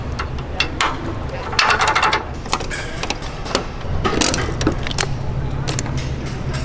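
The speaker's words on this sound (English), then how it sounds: "Let's lock up the trailer." Trailer being locked up: sharp metallic clanks, rattles and clicks of latches and chains in irregular bursts, fairly close, over low outdoor rumble.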